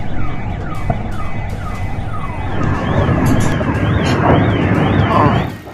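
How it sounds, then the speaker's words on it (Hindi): A siren in wartime Ukraine wails in rising and falling sweeps over a dense, loud rumble of background noise, continuing throughout. "बैकग्राउंड में सायरन का शोर नाउम्मीदी"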